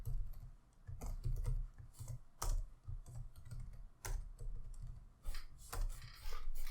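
Keys clatter on a computer keyboard as a project name is typed into the IntelliJ IDEA Java editor, a close run of quick irregular clicks in short bursts with brief pauses between them.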